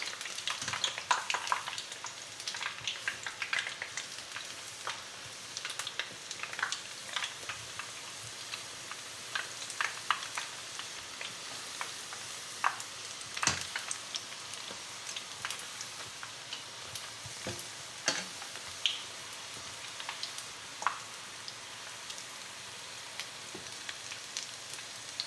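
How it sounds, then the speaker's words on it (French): Courgette flower fritters deep frying in hot oil, giving a steady crackling sizzle with scattered sharp pops throughout, close and fairly quiet, with no voices. "je ne vais pas les faire frire plus que ça"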